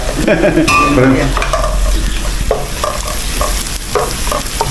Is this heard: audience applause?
no